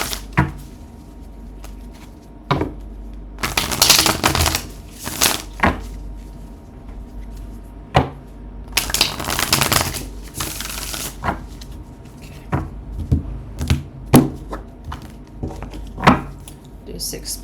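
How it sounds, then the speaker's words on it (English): Tarot cards are shuffled repeatedly in crisp riffling bursts, separated by soft taps and handling noises. "I'm just going to shuffle maybe a few more times until I get an okay"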